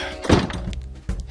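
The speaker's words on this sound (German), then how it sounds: "wir gehen jetzt durch die Tür" A door opens in the point-and-click adventure game Edna bricht aus, a dull thunk followed by a softer knock, close and fairly loud.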